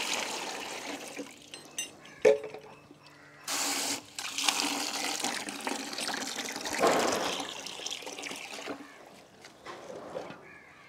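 Plain water and rice water are poured together into a container to mix a rose fertilizer, with uneven splashing and trickling pours in several bursts, fairly soft and close.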